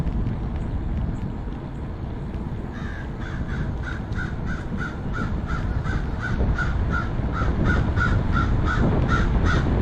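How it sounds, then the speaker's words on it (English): A crow caws again and again in a steady rhythm, each call sharp and clear over a constant outdoor background rumble that carries on the whole time. "Yes, Mr. Crow."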